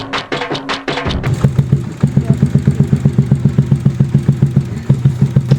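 After a few brief bursts of noise, a motorcycle settles into a steady idle before a ride from Salem to the Kolli Hills, a close, regular chugging pulse at an even rhythm.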